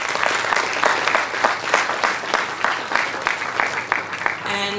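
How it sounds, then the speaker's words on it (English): An audience claps steadily and fairly loudly at an interschool sustainable-development competition, dense applause running throughout with no talk over it. "So let us clap for JGI and Shikha."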